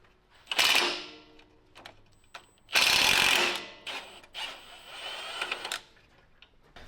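A wrench works the 19 mm bolt on a Toyota Tacoma shock in bursts of fast ratcheting clicks with metallic clanks between, close and fairly loud, with no talk.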